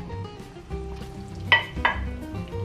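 Ribeye beef added to a hot pan sizzles with a low, steady fry, broken by two sharp utensil clinks against the pan in quick succession.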